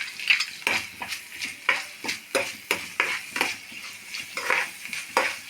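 Six dried red chillies and curry leaves frying in oil in a pan with chopped shallots, a steady sizzle broken by repeated rhythmic scrapes of a spoon stirring, close and fairly loud, with no talk.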